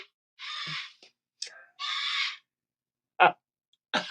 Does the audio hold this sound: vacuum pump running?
no